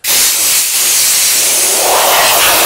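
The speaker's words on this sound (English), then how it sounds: "I'll clean off the surfaces with an air hose before I start finishing" An air hose blasts over wood surfaces, a loud steady rushing hiss starting abruptly and continuing close and unbroken throughout.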